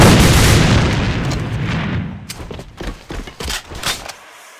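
A grenade blast in an airsoft championship match, a loud broad boom that rolls off and fades, followed by a scatter of sharp impacts and clatters.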